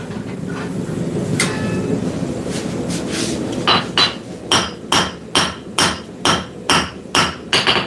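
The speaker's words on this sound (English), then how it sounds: "Yeah, just one of them built-in power hammers." Power hammer in a workshop forging a round steel bar square for a handle, striking about ten loud, evenly spaced blows in quick rhythm after a stretch of steady mechanical rumble.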